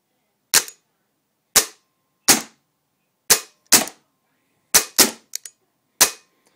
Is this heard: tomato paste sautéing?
no